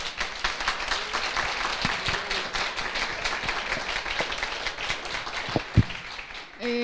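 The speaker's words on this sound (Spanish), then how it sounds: "por favor, un fuerte aplauso por venir acá." Sustained applause from the audience at an artificial intelligence panel event, steady dense clapping that ends with a brief voice at the close.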